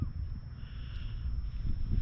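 Steady low northerly wind buffeting on the North Sea coast at Scarborough, a continuous rumbling gusty roar with faint swells, no voices.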